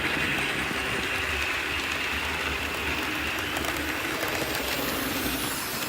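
Two model railway locomotives, a 15XX and a Terrier, run around a layout. A steady mechanical rumble and clatter with a faint ticking rhythm continues without a break, and there is no talk.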